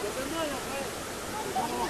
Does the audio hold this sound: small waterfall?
yes